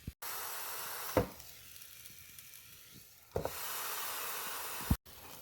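Lamb, bison, pork and beef burgers sizzle on a hot cooking surface, giving a steady, faint hiss of frying. The sizzle is broken by a few brief clatters and shifts in level.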